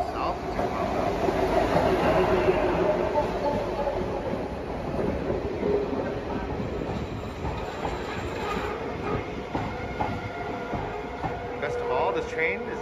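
A passenger train in Sri Lanka running from Ahangama to Colombo, heard from on board as a continuous loud rumble with rhythmic clickety-clack of wheels on rail joints throughout.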